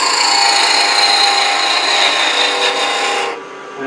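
Steady, loud rasping of a tool trimming and facing off the side of a wooden workpiece on a carving stand, continuous for over three seconds before cutting off near the end, with no talking.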